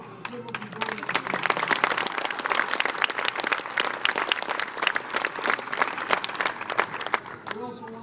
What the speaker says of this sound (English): Let's give it a round of applause for a good looking building.